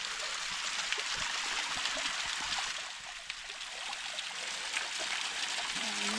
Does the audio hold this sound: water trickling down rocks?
yes